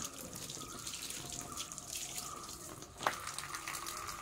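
Tap water running into a sink while food is washed with salt: a constant splashing stream, close and moderately quiet, with a brief sharper splash near the end, and no talk.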